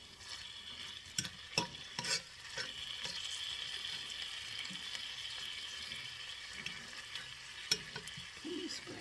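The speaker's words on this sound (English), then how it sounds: "I'm going to fry my bacon" Bacon sizzling in a pan for an asparagus brunch, a steady close crackle with a few sharp utensil clinks and scrapes, no talk.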